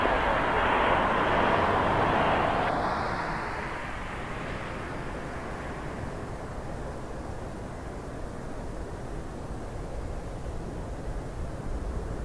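An Embraer E195-E2 airliner descends to land at Toronto Pearson Airport, a broad rushing jet roar loud at first, then fading to a steady distant hum.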